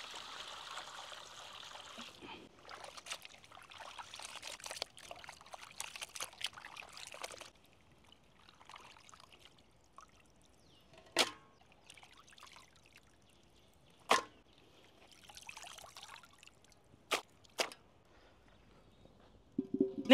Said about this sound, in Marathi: आपण आता चिकन स्वच्छ पाण्याने धुवून घेऊ